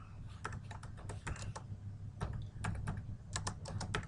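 Typing on a computer keyboard while entering a medical e-referral in practice software: a steady run of close, crisp key clicks in uneven bursts with short pauses, over a low room hum.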